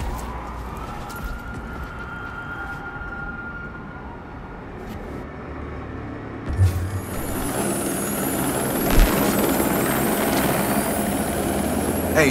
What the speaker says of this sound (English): No, I do believe that is a helicopter.